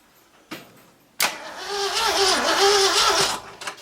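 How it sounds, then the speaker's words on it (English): A 1964 Ford F100 4x4 survivor, parked for over 30 years, has its key turned: two sharp clicks, then a loud, close starter cranking that whirs in an uneven, wavering rhythm for about two seconds without catching. "Should I hit the key and see if it cranks?"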